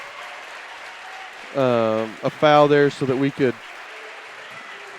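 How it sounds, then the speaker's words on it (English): Steady crowd applause fills a high school girls' varsity basketball gym during a final regular-season senior game, running continuously beneath a commentator's nearby speech. "let people kind of applaud her for her career here"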